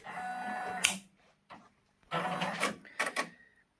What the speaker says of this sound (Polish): teraz nam maszyna pokazuje znacznik też obniża troszeczkę stopkę